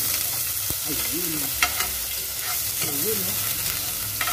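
Ginger sautéing in a pan for Filipino chicken adobo with potato and pineapple, a steady close sizzle and frying hiss with scraping stirs, while a voice speaks briefly in the background.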